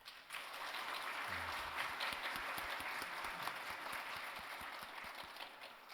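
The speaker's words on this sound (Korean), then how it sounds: "축하의 박수 하겠습니다" A church congregation claps together during a Sunday worship service to welcome a couple, giving steady, dense applause that lasts throughout and sounds a little distant, with no voices over it.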